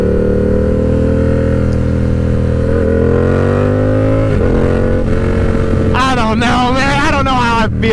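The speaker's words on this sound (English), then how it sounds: "the CP2 engine sounds awesome" Yamaha R7 with its CP2 parallel-twin engine pulls steadily through a low, droning ride, the note rising gradually, then dropping after a gear change and climbing again into sharper, wavering revs near the end.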